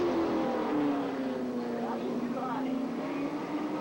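Race car engines drone steadily at a short track race near the end of a feature, a continuous sustained roar with slight pitch sweeps as cars run laps, heard at a distance beneath an announcer's voice.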